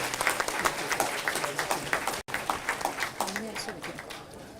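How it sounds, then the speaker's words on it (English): An audience at an engineering graduation ceremony breaks into sustained applause, dense clapping from a crowd with voices mixed in and a brief dropout midway. "Can we have a huge round of applause to congratulate our graduates?"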